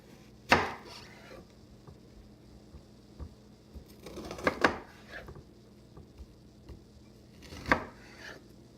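A knife chops a peeled onion into sections on a board, three distinct sharp thuds spaced a few seconds apart against a quiet background.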